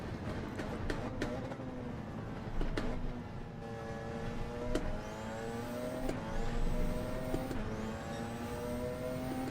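A race car engine in a Le Mans 24 Hour racing game revs hard and climbs through the gears, each shift marked by a sharp drop in pitch. The whine stays continuous and fairly quiet.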